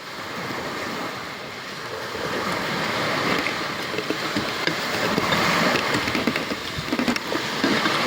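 Sea waves wash continuously onto the shore, a loud, steady rushing surf with wind buffeting the microphone, with no talking throughout.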